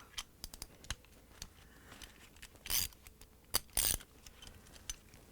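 A ratchet with a 10mm socket tightens bolts on an LG/Kenmore washer motor stator assembly, giving quiet rapid clicks in short bursts with a few louder clatters and scrapes close by.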